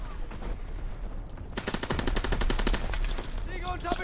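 Call of Duty: WWII multiplayer on the Ardennes Forest map erupts into rapid machine-gun fire, a loud, dense stream of shots following a quieter moment, with voices calling out in the background.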